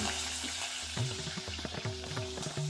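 Curry leaves and dried red chillies, along with mustard seeds and cumin, sizzle in hot oil for holige rasam: a close, steady frying hiss with crackles and clinks of stirring, no voices.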